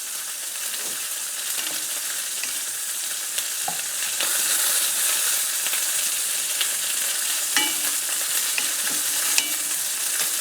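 Kale tossed into a pan of frying bacon and onions, giving a steady, dense sizzle with scattered small pops and occasional stirring scrapes, the hiss swelling slightly partway through.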